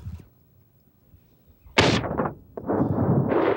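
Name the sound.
gunshots at clay target shooting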